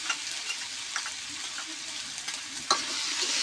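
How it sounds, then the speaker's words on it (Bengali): Ground chilli stirred with a spoon into katla fish curry sizzling in a pan, a steady close frying hiss broken by light scraping clicks and taps. "এটা দিয়ে ভালোভাবে নেড়ে দেবো আমি"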